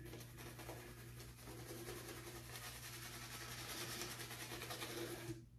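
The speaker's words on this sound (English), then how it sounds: "let's get into the lather and get the shave kicking" A shaving brush whips Stirling Satsuma shaving soap into lather with a fast, steady wet swishing and churning. It is faint but continuous and close, then cuts off abruptly at the end.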